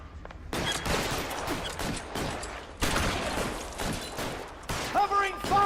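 Bursts of rapid gunfire in the LA Noire video game during a shootout, loud and repeated across the stretch, with voices heard briefly near the end.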